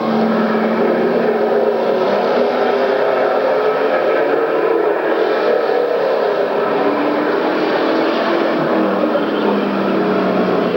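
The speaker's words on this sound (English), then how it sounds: "That 3-car train in a battle for second spot as they go down the backstretch." A tight pack of three race cars roars down the backstretch of an oval during a 1994 race, a loud, continuous engine drone that holds steady throughout without talk.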